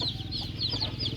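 Backyard chickens cluck repeatedly with short, high calls over a steady low rumble of farmyard background, no one speaking.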